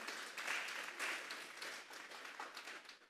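A church congregation applauding during a Sunday service: dense, continuous clapping from many hands, steady and somewhat distant, fading slightly toward the end.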